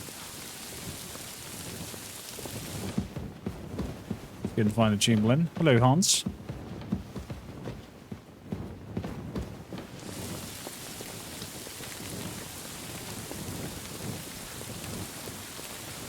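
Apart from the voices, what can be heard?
rain and thunder in the video game Kingdom Come: Deliverance II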